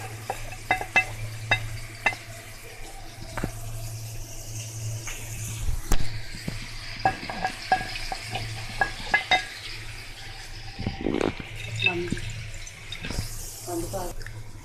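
Crushed tomato and pomegranate seed paste frying in a pan for bhindi fry, with steady sizzling, stirring scrapes and clinks against the pan, and some water sounds, all under a low background hum.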